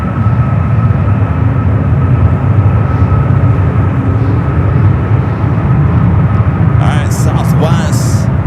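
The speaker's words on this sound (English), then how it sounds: "Southwest, early rotation. Up like a rocket." A Southwest airliner taking off at San Francisco airport, a loud, steady roar of jet engines filling the scene, with a voice speaking briefly near the end.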